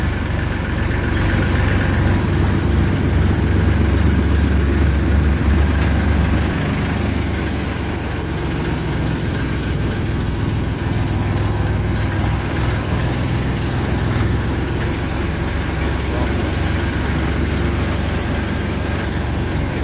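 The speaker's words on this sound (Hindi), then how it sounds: "ट्रैक्टर आ गया है।" A new tractor engine idles steadily with a constant low rumble and mechanical drone, close and loud throughout.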